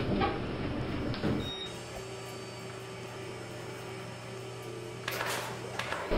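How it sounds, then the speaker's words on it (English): Elevator doors in a Roblox game slide shut with a mechanical rumble. A steady hum follows, and another burst of door noise comes near the end. "Doors closing."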